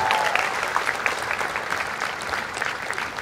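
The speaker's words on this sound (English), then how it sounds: "And a big round of applause for this team here." At a film launch event, the audience gives the film team a warm round of applause, a dense, continuous wash of clapping from a crowd that stays steady for a few seconds.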